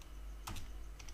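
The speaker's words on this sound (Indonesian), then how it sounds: "Kemudian kita ketik menerima pesanan." Keystrokes on a computer keyboard while text is typed into a CorelDRAW banner design, a few soft close taps in a short cluster over faint room hiss.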